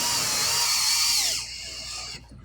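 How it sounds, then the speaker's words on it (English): A power drill whines steadily at close range, driving a steel screw into a pilot hole for a card table hinge on a wooden demilune table, then winds down and stops. "I'm just cutting those threads in with this steel screw."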